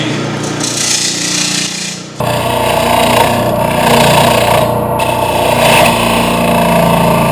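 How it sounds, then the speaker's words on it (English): Wood being turned on a lathe into a lampshade with a 5/8 bowl gouge, a loud steady rasping scrape that briefly drops, then resumes stronger and continues without talk. "I'm just going to use a 5/8 bowl gouge"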